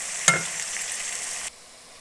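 Onions hit hot oil in a kadai with a sudden hiss, then sizzle steadily for over a second before the sound drops away to near silence.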